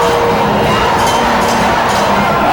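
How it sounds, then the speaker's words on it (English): A loud hockey crowd cheers and roars in an arena during a junior league finals game between the North Bay Trappers and New Liskeard Cubs, a dense sustained wall of shouting and yelling. "Now the crowd's getting into this."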